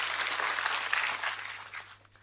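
A church congregation applauds, a broad wash of clapping that starts full and fades away over a couple of seconds, with no speech over it.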